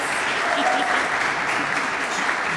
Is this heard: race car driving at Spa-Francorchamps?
no